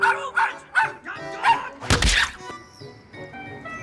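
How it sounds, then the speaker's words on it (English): A dog in the animated film A Cat in Paris barks several times in a quick, rhythmic series, loud and close, then a heavy thump lands and a faint whimper trails off. "The dog barking scenes are a fabulous,"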